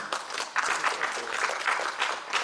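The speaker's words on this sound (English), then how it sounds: "Let me clap." Applause from an audience at a public gathering on religious harmony and secularism, a dense steady patter of many hands with a few louder swells, heard without talk.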